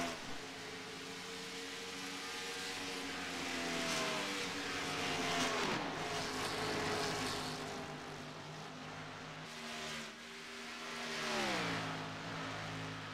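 Race cars in iRacing sweep past at Las Vegas, their engine drones rising and falling in pitch, with several loud passes close by in a steady stream of traffic.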